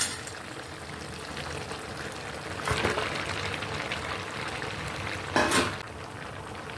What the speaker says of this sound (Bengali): এবার আমি নাড়িয়ে দেবো। মাছের মাথাগুলো যে ভেজে রেখেছিলাম ওইটা দিয়ে দেবো।